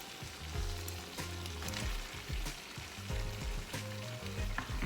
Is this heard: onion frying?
yes